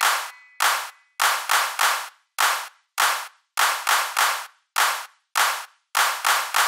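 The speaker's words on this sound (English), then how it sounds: "For the last one, just clap." Loud, sharp claps ring out one after another in an uneven rhythm, some single and some in quick pairs, with brief silences between them.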